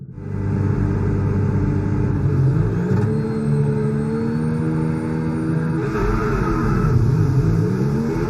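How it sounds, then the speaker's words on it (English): An F1 video game car launching off the start line at a Formula 1 race, its engine roaring loud and continuous with rising and shifting pitch as it accelerates through the gears amid other cars. "That's a brilliant launch off the line."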